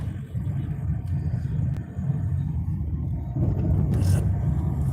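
A car passes with a low rumbling drone that swells and fades, no voices over it.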